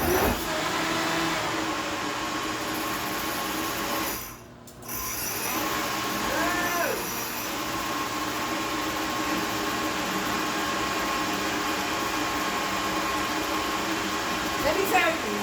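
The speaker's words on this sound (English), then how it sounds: "I think my Vitamix is on its last leg" An aging Vitamix blender that seems near failure churns cream into butter with a loud, steady motor whir. It cuts out briefly about a third of the way through, then runs on continuously.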